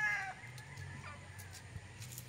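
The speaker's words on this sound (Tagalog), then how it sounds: "isang inahin" A laying hen's soft clucking in short, quiet bursts, close by, with faint farmyard background.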